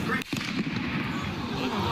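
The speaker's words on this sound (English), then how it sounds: "He's on the speakers, and then one gunshot ring out." A single sharp gunshot cracks early in a recording made in a crowd at a college campus event, followed by continuous loud crowd noise and murmuring voices.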